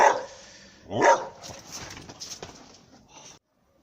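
A dog barks a few times nearby, sharp single barks separated by short pauses, with some background clatter and no talking.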